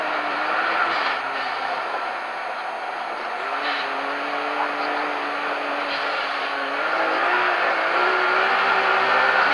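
A Can-Am X3 on 30-inch, 14-paddle Tusk sand paddle tires drives through the Glamis dunes, its engine a sustained revving whine that climbs and falls in pitch, heard from moderate distance and without talk.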